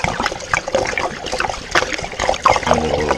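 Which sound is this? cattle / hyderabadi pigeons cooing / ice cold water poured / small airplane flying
ice cold water poured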